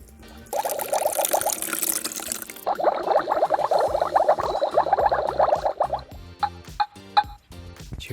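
Liquid pours into a Magic Mixies misting cauldron toy, a steady splashing gurgle lasting several seconds, then giving way to faint clinks and taps.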